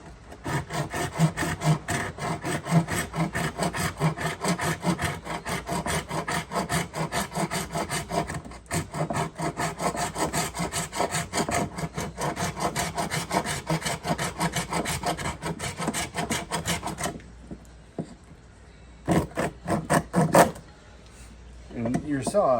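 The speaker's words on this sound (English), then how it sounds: "take my saw, either cut that knot in half or cut just a round off of it." Hand saw working through a fatwood knot in fast, continuous back-and-forth rasping strokes, loud and close, then slowing to a few separate strokes near the end; a voice talks over part of the cutting.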